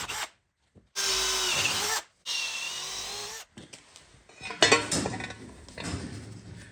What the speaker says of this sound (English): when I drill this hole, I wanna go all the way through both pieces of steel